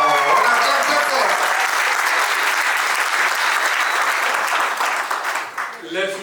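Guests at a civil wedding in a town hall clap loudly and steadily, a dense sustained round of applause that thins out and tapers off near the end.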